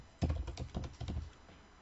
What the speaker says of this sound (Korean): 컨트롤 S를 눌러서